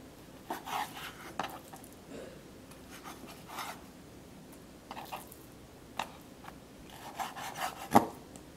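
A knife slicing fish into bite-size pieces on a board while preparing salt-roasted fish, giving soft, scattered rubbing and cutting strokes with a sharper tap near the end, close and without talk.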